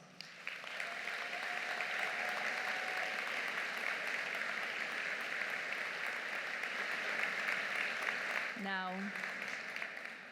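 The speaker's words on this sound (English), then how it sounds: "Let's give them a heartfelt applause" A sustained round of applause from the audience at a spring 2019 graduation and award convocation, a broad, even patter lasting about ten seconds, with a brief voice or tone cutting through near the end.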